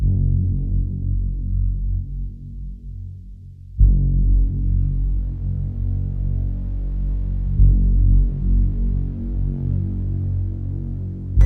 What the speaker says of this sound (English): let's get the first start up of the twin turbo Lamborghini Gallardo